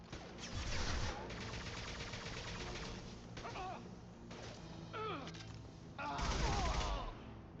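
Gunfire in the video game Mass Effect 2, a sustained loud barrage of rapid shots and impacts with brief sweeping effects, continuing throughout with a heavier burst near the end.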